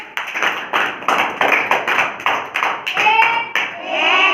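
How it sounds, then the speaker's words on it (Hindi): A group clapping hands in a class activity, with about a dozen distinct, evenly spaced bursts that ring close and loud, then fade into a looser patter with voices near the end. "तालियां बजाओ।"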